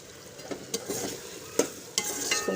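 Cumin seeds tossed into nearly finished bhindi masala (okra) sizzle softly while a spoon stirs, with several sharp scraping clicks against the pan and a steady low frying hiss between them.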